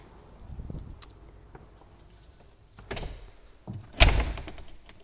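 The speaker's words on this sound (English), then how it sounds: "Locking the door." A house door swings shut with a heavy thunk near the end, preceded by softer handling and latch sounds as it is closed and locked, heard close by with no talking.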